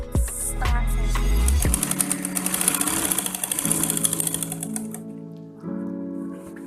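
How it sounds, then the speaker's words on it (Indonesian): A sewing machine stitches fabric for the front body panel of an A-line gamis dress with a half-centimetre seam: a loud, close, rapid mechanical chatter runs in bursts between motor whirs and stops. "Langsung aja ini kita jahit setengah senti."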